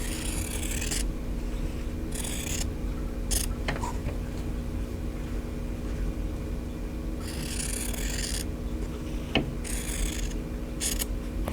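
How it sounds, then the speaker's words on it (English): Scissors or a cutter cutting pieces of quilting fabric apart to make half square triangles: brief bursts of crisp snipping and slicing, close up, over a steady background hum. "I'm going to cut them apart, and then I'm going to cut along that drawn line to make the half square triangles."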